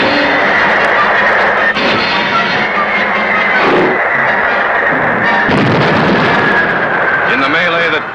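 A submarine fires torpedoes in wartime action, heavy booming launches and rushing noise over a continuous roar, with shouted commands heard between them.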